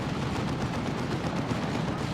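Venom Cannon fire from a Tyranid Carnifex in Warhammer 40,000: Dawn of War 2, a dense, continuous rumble of heavy battle fire with no clear gaps, steady and moderately loud throughout.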